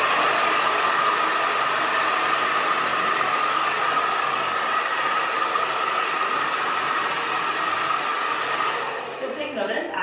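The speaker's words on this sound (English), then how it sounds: "Notice as I'm rough drying that I'm concentrating the hair in the long direction" A hair dryer blows steadily for rough drying hair, a loud, close, continuous airy whoosh that briefly dips and shifts near the end as the airflow moves.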